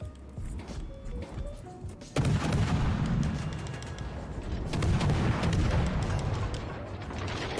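Battleship gunfire in a naval video game: heavy booming salvos and rumbling explosions, a lighter stretch first and then a dense, loud barrage that keeps going, with faint talk in places.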